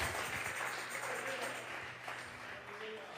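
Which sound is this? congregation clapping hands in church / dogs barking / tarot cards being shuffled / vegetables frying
congregation clapping hands in church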